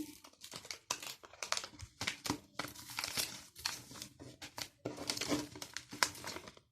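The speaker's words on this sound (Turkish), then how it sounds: "Şimdi zaten direkt açıyorum." Close, quiet crinkling and crumpling of a wafer chocolate bar's wrapper as it is opened, in rapid irregular bursts with short pauses between them.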